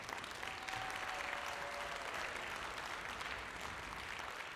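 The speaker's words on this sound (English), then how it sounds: "Give them a big round of applause." Concert audience giving the music boosters a big round of applause at a school winter band concert, a full, even burst of clapping from a large crowd with a faint whistle early on and no talk.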